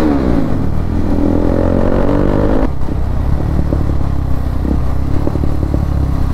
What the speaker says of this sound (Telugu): బైక్కి ఇట్లా బ్యాక్ ఫైర్స్ కొడుతుంది నాది ఫుల్ సిస్టమ్ ఎగ్జాస్ట్లో.